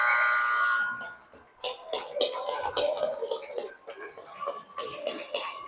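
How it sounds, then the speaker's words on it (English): An ice hockey arena buzzer ends the second period of a youth sectional game with one steady tone of under a second, followed by crowd noise and talking. "We're going to hear the buzzer in a second here"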